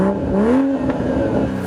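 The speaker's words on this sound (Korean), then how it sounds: "스포츠 모드에서는 가변 배기 플랩이 열리면서 조금 더 강력한 소리도" A BMW M340i Touring's exhaust with its variable valve flap drones loudly as the engine note rises and dips, a deep rumbling hum up close with no voices.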